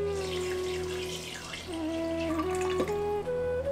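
Water is poured from a tap or jug into a cooking pot of goat trotters. The steady splashing rises in pitch as the pot fills, loud and close, with no talking.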